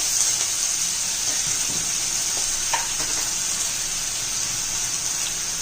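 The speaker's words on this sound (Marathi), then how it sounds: "कांदा आपला आता ब्राऊन झालाय आता टोमॅटो घालू अर्धा टोमॅटो घातलाय" Onion and half a tomato fry in a pan for a green mung bean curry, giving a steady bright sizzle throughout with a few soft stirring clinks.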